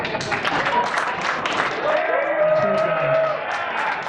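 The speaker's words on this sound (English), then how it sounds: "And now clap if you were on Worldwide Magazine" An audience at an evening event in the South Broadway Athletic Club claps and cheers with a few whoops, a dense sustained burst that fades slightly toward the end as voices mingle in.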